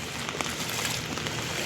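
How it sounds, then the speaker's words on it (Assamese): Heavy early-morning rain pours onto a flooded road, a dense, even hiss of falling water that fills the short stretch without a break. "বৰষুণ একদম বেয়াকৈ বৰষুণ দিছে।"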